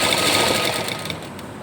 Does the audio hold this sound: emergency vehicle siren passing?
no